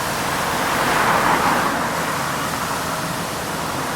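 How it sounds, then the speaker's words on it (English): Traffic on London Road, a main road in Cowplain, a continuous broadband rush of passing cars with a swell as a vehicle goes by close, steady and fairly loud with no voices. "Sorry about the noise, because I've come onto a main road now"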